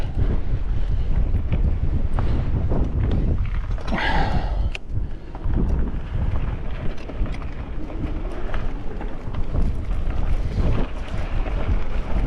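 Strong wind buffets the microphone along the Snake River Canyon rim trail, a constant loud roaring rumble with gusty low-frequency blasts throughout.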